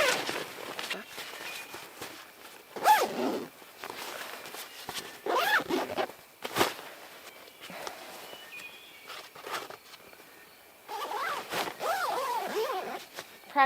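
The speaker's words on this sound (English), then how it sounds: "you have to grab the bottom again to do the zipper." On a long solo wilderness hike, the zipper of a head bug net is worked in several short rasping pulls, close and intermittent, mixed with rustling movement and a person speaking.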